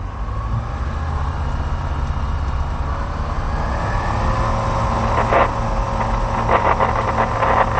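UFQ A7 light aircraft engine running through a takeoff roll on the runway, a steady loud drone with rising intensity and rattling bursts toward the end, no talking.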